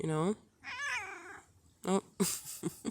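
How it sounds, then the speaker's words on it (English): A male house cat lets out a few loud, close meows, one drawn out and others short, while a person gives a brief exclamation. "That was my cat."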